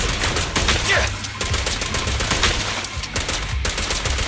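Rapid bursts of gunfire in the video game Zenless Zone Zero, loud and close, with dense repeated shots layered over game effects and some speech.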